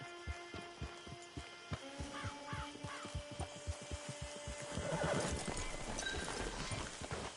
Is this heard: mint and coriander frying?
no